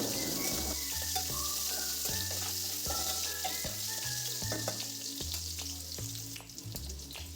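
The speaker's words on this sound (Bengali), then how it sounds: "এবার এর মধ্যে কেটে রাখা আলুগুলো দিয়ে দিলাম। হালকা একটু ভেজে নেব আলুগুলো।" Cut potatoes frying lightly in a pan for a potol-aloo curry, with a steady hissing sizzle throughout and soft stirring knocks, close and continuous, with no talk.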